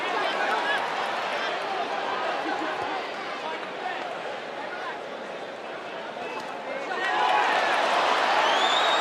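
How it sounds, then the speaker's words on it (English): A boxing arena crowd at a title bout roars steadily throughout, a dense wash of cheering that swells louder near the end, with a commentator talking over it. "Crowd willing Conlan on."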